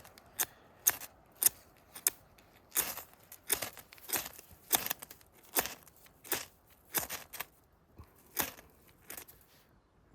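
Scraper tool repeatedly rasping against a paracord bracelet, a run of sharp, crisp scrapes at an irregular rhythm, close and fairly loud with brief pauses between strokes and no talking.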